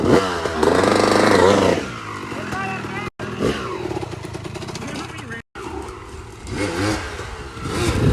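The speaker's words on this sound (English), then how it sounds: "This is how you ride dirt bikes," A dirt bike engine revs hard while being ridden outdoors, a loud rising and falling roar with brief cutoffs, and voices talk over it.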